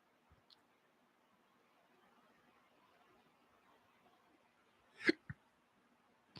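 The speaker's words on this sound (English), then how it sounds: "I had a hiccup." A single sharp hiccup, followed a beat later by a smaller catch, breaks an otherwise quiet, faintly hissing room near the end.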